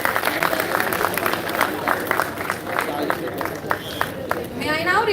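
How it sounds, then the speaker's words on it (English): Conference audience applause, with a steady patter of many hands clapping throughout and a murmur of crowd noise. "Once again, a round of applause for this invaluable presence and inspiring"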